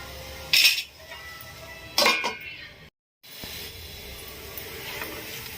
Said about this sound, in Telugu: వీటిలన్నిటిని కూడా మంచిగా కలుపుకొని మళ్ళా స్టవ్ని మీడియం ఫ్లేమ్లోకి అడ్జస్ట్ చేసుకొని ఫ్రై చేసుకోవాలి.